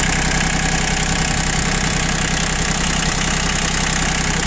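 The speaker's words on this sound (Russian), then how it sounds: "Трехцилиндровый мотор, механический ТНВД." A three-cylinder diesel engine with a mechanical injection pump on a Japanese four-wheel-drive mini tractor idles steadily up close, a continuous loud rumble with a regular knocking beat and no voices.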